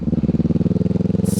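A 2025 Kawasaki Ninja 500 parallel-twin motorcycle engine revving, a close, loud, rapid pulsing throb that holds steady before a hiss of higher noise enters at the end.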